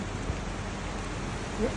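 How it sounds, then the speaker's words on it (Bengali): Steady, even hiss of rain falling, continuous and moderately loud, with a brief voice near the end. "কি সুন্দর বৃষ্টি হচ্ছে"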